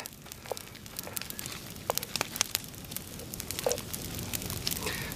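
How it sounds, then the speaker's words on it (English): Bubbling and popping crackles from deer stew simmering in a Dutch oven, irregular and close, with a soft hiss underneath and no talking. "got a little boiling going there"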